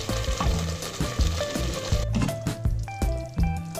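Mutton korma sizzles in ghee in a karahi, a crackling fry broken by rhythmic scraping and stirring knocks of a utensil against the pan, close and fairly loud.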